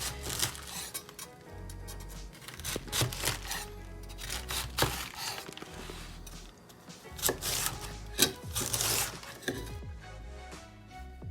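A knife chops red cabbage on a cutting board for spring rolls, a steady run of crisp close thuds and knocks with brief pauses between strokes.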